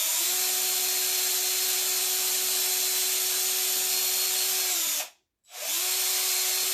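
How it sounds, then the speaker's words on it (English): A power drill bores a hole through hard wood with a loud, steady whine and grinding roar, then stops briefly and starts again at the same pitch. "So we're just going to drill."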